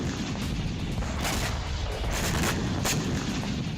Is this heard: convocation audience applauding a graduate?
no